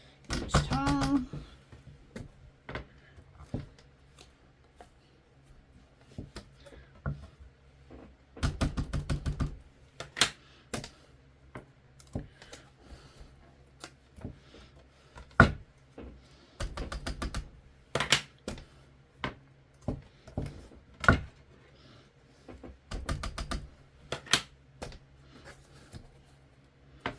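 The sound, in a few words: clicks of the Sizzix Stamp and Spin tool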